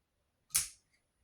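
An Ozark Trail liner lock knife blade snaps open and locks in one sharp, close click, followed by a faint tick in an otherwise quiet room.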